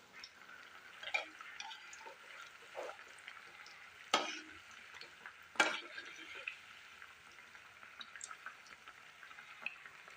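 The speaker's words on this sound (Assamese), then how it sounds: "এইদৰে মই গোটেই পিঠাকেইটা ভাজি ৰেডি কৰি ল'ম" Assamese pitha frying in a pan, a soft steady sizzle with occasional sharper pops and crackles, close and fairly quiet with no talk.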